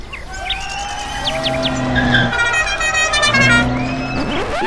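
A Citroën 2CV in the Tour de France promotional convoy drives past amid crowd noise, its engine droning steadily with a rising whine near the end, while whistles and high chirping calls ring out over the top.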